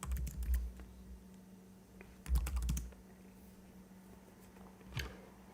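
Keys clatter on a Lenovo laptop keyboard in quick bursts of typing, loud and close, with short pauses between flurries and a final tap near the end.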